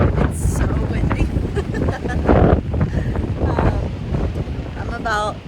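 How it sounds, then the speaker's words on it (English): Strong gusts buffet the microphone in a loud, rumbling roar beside Lake Medina, continuous under a person talking. "It's so windy."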